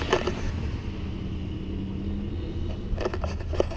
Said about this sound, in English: let me wait for this truck to go by.